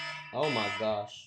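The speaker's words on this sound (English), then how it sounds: "That's my alarm for when I stream at 4," Alarm going off with a steady electronic tone set for stream time; a voice exclaims briefly over it at close range.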